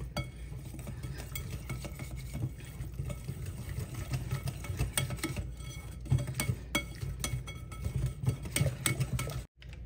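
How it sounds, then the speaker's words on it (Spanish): Sifted powdered sugar mixture for walnut cookies being stirred in a bowl, a steady scraping swish with frequent light clinks of utensil against the bowl, close and continuous with no talk. "Vamos a revolver esto muy bien así."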